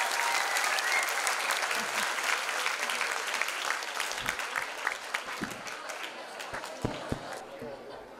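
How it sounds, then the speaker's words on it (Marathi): Loud, dense applause from an auditorium audience at a felicitation ceremony, sustained clapping with scattered voices that slowly thins toward the end. "जोरदार टाळ्या झाल्या पाहिजे गिरीश सरांसाठी पण."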